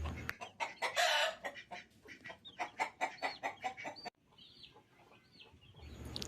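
Hens cluck in quick repeated bursts with chicks peeping around them, close by and lively, then the clucking thins out into softer scattered calls.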